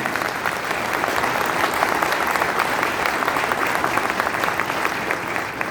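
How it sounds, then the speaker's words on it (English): A big round of steady, dense applause from a crowd at a direct selling business gathering, continuous and even throughout without any speech over it. "So big round of applause to all of you."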